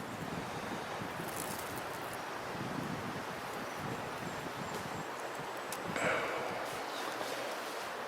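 Wind blows outdoors during a ferro rod firestarting demonstration, a faint, continuous broadband rush and rustle with a slight gust near the end.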